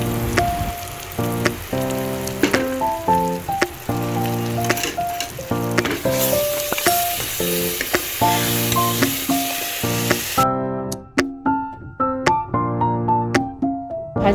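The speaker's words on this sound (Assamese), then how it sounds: "এতিয়া মই দৈ পেষ্টটো মই দি দিছোঁ ইয়াতে।" Yogurt paste frying in a pot for egg biryani gives a steady, crackling sizzle that runs throughout, partly buried under loud tonal background music.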